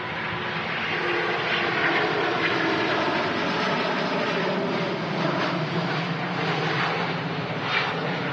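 A Singapore Airlines Airbus A350-900 rolls out after landing at Manchester Airport, its engines giving a steady, loud, broad roar that holds without a break.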